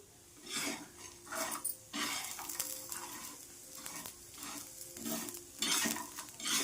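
Garlic cloves and spices roast in a pan for a drumstick vegetable curry, with quiet sizzling broken by repeated scraping strokes of a spoon against the pan.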